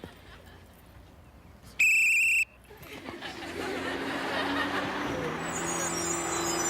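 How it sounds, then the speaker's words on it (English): A garbage truck pulls up in a Mickey Mouse Club comedy sketch: a brief, sharp electronic beep sounds, then a growing engine rumble with airy hiss builds and holds steady for several seconds. "A garbage truck?"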